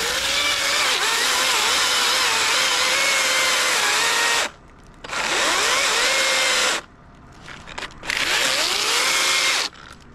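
A Milwaukee battery chainsaw cuts through wood in three loud, sustained bursts, its whine rising as the chain bites, with short quiet gaps between cuts and no talking.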